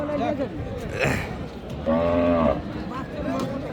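A Sahiwal-Sindhi cross cow at a cattle market moos in a loud, drawn-out call near the middle, with a shorter lowing sound earlier, amid crowd chatter and nearby voices.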